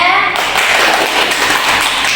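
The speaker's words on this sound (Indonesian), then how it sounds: "Tepuk tangan untuk kelompok 2" A university class doing a role-play teaching simulation bursts into brisk, dense applause for a student group, loud and close, lasting the whole short moment.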